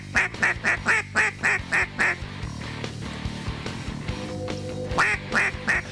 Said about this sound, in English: ducks began to get up from the unfrozen parts of the timber hole